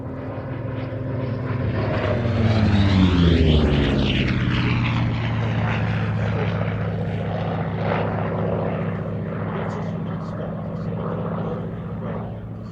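A Grumman Bearcat piston-engine Navy fighter flies past at a Shuttleworth airshow, its propeller drone swelling loud with a sweeping pitch shift as it passes, then holding a steady throaty roar.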